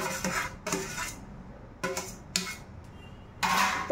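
Ground beetroot stirred and roasted in hot ghee in a pan, heard as repeated scraping and clinking of a spoon against the metal pan in short bursts, close and moderately loud, with no talking.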